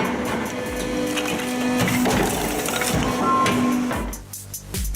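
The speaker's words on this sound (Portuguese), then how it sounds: "As toras são levantadas manualmente sobre a bancada, sendo então empurradas gradualmente em direção ao divisor e depois despejadas no chão" A TB600 hydraulic log splitter with 30-ton force splits logs 300 to 600 mm across, fed along a bench; steady loud mechanical grinding and cracking wood fill the clip, with hydraulic whine throughout and a drop near the end.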